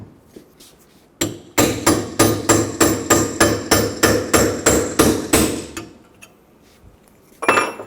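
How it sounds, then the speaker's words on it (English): A hammer drives a chisel into a front wheel-bearing race from a 2014-2019 Toyota Highlander, striking about fourteen loud, evenly spaced metallic blows that ring sharply. After a short pause, one more strike follows. "take a chisel, put it in here, and try and crack the race."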